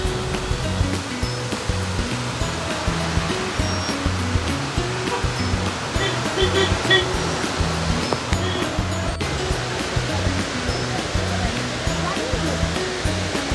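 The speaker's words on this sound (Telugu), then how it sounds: "దాన్నే చిన్న కెనాల్ వాటర్ ఫాల్స్ అంటారు." Chinnakanal waterfall in Munnar roars as a dense, steady rush of falling water, loud and continuous, with no voices over it.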